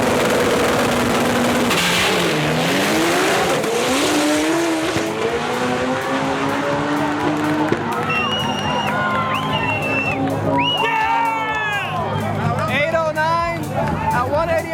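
Drag race cars roar down the strip at a night event, one of them a record-setting Honda Civic EF. Loud engines climb in pitch through the gears over crowd noise and background voices.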